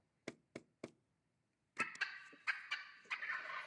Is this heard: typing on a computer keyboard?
no